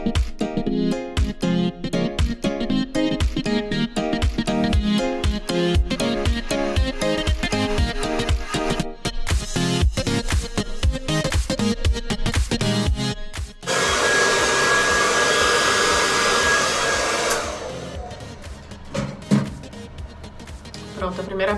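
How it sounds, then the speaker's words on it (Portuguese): A hair dryer blows on hair with a steady, breathy whoosh and a faint whine for a few seconds mid-clip, after a long stretch of busy, clattering sounds. "Eu vou secar com o secador agora."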